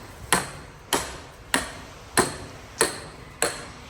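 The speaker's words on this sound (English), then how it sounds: "pounding in some stakes" A hammer pounding stakes into the ground at a construction site for a large house foundation, six sharp, evenly spaced ringing blows about every 0.6 seconds, fairly close and loud, with no talk.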